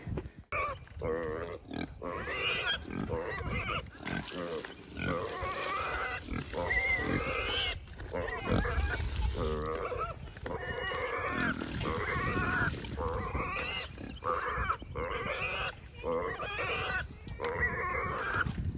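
Pigs on a farm grunting and oinking at feeding time, a busy run of repeated close grunts and squeals in irregular bursts with brief pauses, loud and near.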